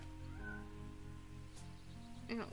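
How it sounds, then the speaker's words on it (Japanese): A cat meows in the video game Trüberbrook: one clear, drawn-out meow near the end, fairly close, over a steady humming ambient game score. "声は猫だな。"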